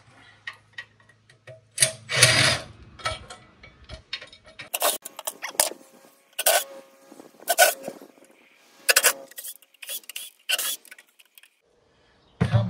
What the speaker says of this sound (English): Just gonna pull the screws out.